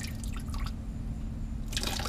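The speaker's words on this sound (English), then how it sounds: "So I have to just keep doing this until it stops draining" Water draining from a radiator hose on a 2015 Subaru WRX, a continuous close trickle and splash with brief brighter spurts, no talking over it.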